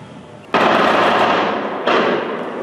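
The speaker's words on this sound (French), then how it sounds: "À minuit 20, des coups de feu retentissent." Gunfire during the police assault on the Bataclan concert hall in Paris: dense, rapid bursts of shots blur into a loud continuous roar, with a second burst starting after a brief dip.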